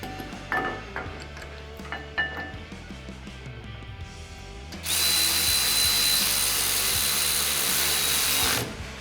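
Power tool bolting a brake spacer bracket and caliper to the axle housing during a big brake upgrade kit install, with a few light clanks followed by a steady, loud whirring run of about four seconds that stops abruptly.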